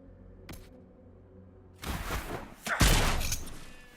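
Varric fires his ranged weapon at a ram in Dragon Age Inquisition, a brief click followed by two bursts of impact noise, the second louder and heavier.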